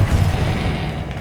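An Incendio fire spell is cast in Hogwarts Legacy, giving off a brief, loud, rumbling burst with a deep low-end roar that holds steady for about a second.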